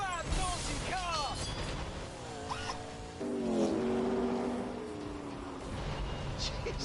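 In The Grand Tour video game, a car engine revs hard through rising and falling gear sweeps with tire noise, while someone talks excitedly over it.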